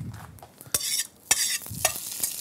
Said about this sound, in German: Wir hören es schon zischen.